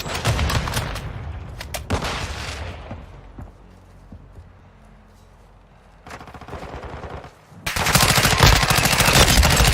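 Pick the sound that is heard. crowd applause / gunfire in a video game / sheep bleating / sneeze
gunfire in a video game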